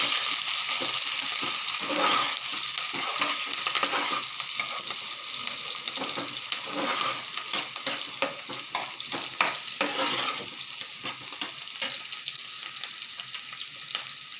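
Bay leaves, cardamom and cloves fry in hot oil in a pan for a mutton fry, giving a steady close sizzle broken by repeated scraping stirs throughout.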